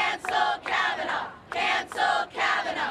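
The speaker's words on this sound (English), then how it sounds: "Just one of the chants from the crowd of about 125 that gathered on the steps of City Hall overlooking Spring Street today" A crowd of about 125 on the City Hall steps above Spring Street chants in unison at a rally, loud rhythmic phrases repeated in regular pulses with brief gaps between them.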